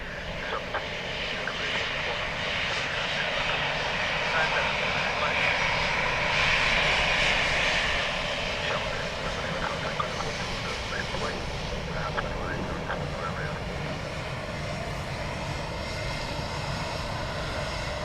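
Airliner engines roaring at Dublin Airport, a loud sustained rumble and whine that swells and slowly fades, with faint radio-style talk underneath.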